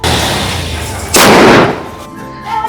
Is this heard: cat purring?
no